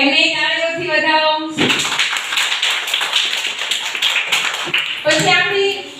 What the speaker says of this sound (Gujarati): એમને તાળીઓથી વધાવો.